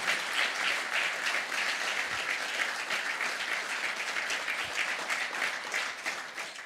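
Conference audience at a Swift Heroes 2022 iOS developer talk applauding steadily and fairly loudly from start to finish, dense overlapping hand claps with no pauses.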